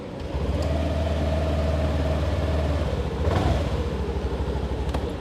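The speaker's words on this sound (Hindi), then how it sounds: "चलिए स्टार्ट करता हूँ स्कूटर को।" A Honda 125cc scooter engine starts quietly and settles into a steady, close mid-pitched idle, with a slight rise in revs partway through before returning to an even hum.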